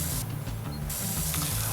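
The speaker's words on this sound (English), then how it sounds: "let's say I'm spraying like this, where I'm spraying from the ground" Pressure washer water spraying in the Power Wash Simulator video game during a backyard level, a steady loud hiss that cuts in and out briefly over a low musical background.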